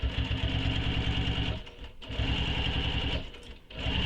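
A sewing machine stitches the bottom of a circular bag's pocket closed, its motor humming loudly and evenly in close, continuous runs broken by two brief pauses.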